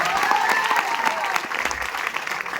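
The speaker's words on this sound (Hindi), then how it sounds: "इस माई लाइफस्टाइल मैनेजमेंट के लिए जोरदार तालियां होनी चाहिए" An audience at a Johar lifestyle-management program in Bilaspur gives loud, sustained applause, a dense wash of clapping with scattered cheering voices throughout.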